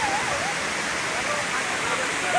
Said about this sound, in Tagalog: Dito tayo sa falls.